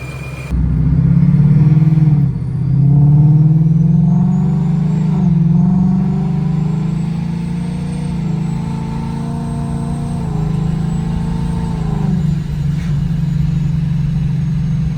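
A car fitted with an ESS G3 supercharger pulls away and drives, its engine droning loud and close while a high supercharger whine climbs and falls with each gear, fading somewhat toward the end.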